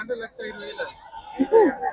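Goats at a goat market in Morampalli Banjara, Bhadradri Kothagudem district, Telangana, give a short nearby bleat amid people talking close by.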